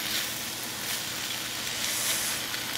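A large batch of onions sizzling hot in olive oil in a pan: a steady, dense hiss and crackle, close and fairly loud, with no talk over it.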